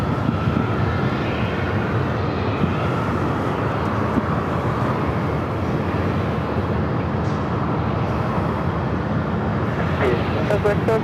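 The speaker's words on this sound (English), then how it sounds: "Looks like we have a Delta 767-400ER heading over here for north side takeoff" A Delta Boeing 767-400ER airliner takes off at LAX, a continuous broad jet roar that holds steady throughout, with faint voices in the background.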